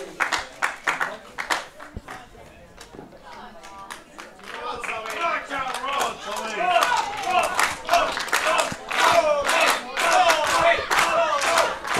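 A split wrestling crowd at an independent pro wrestling show cheers for two rival wrestlers, with loud rhythmic chanting and clapping that builds and stays strong through the second half.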